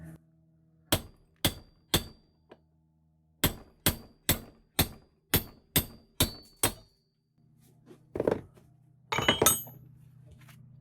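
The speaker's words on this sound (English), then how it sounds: "I'm first going to try to take my cold chisel and just split this and see if this aluminum will just crack" A cold chisel is hammered into cast aluminum salvaged from a scrapped generator: three sharp ringing blows, a pause, then a steady run of eight more, followed by scraping and a final clattering crack of metal.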